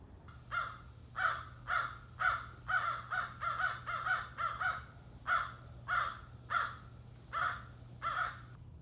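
Crows cawing in a backyard, a rapid series of harsh repeated caws in bursts, fairly close and clear over a low steady hum.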